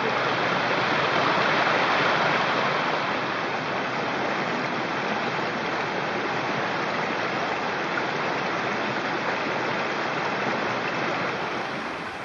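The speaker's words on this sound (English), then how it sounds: "There's a lot of water that must be coming down here." Water rushing steadily down an eroded hiking trail, a loud, unbroken broadband wash of running water that holds evenly throughout with no voices.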